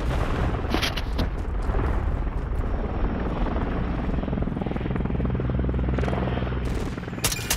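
A video game helicopter roars loud and close with a deep, continuous rotor rumble, mixed with sharp bursts like gunfire or explosions.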